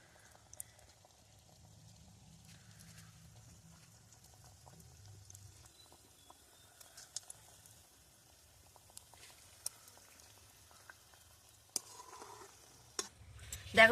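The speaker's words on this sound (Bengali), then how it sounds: "বেশ ভালো করে লাল লাল করে আমি সিঙ্গারাগুলোকে ভেজে নেব।" Samosas deep frying in hot oil for a homemade crispy snack, a faint steady sizzle and bubbling throughout, with occasional clinks and a louder rattle near the end.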